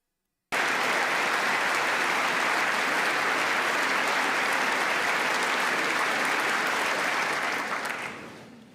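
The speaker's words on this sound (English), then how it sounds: "Americans limply clapping as King Charles talks about how we need to protect the environment" A large audience claps for King Charles's speech in a big hall, beginning abruptly after a brief silence, then a steady, even wash of applause that slowly fades out toward the end.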